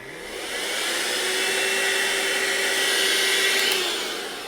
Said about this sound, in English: That's about the best vacuum cleaner I think that you could get.